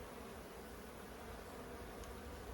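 Bees buzz in a dense, steady drone around hive frames being pulled apart, faint but continuous with no pauses and no voices.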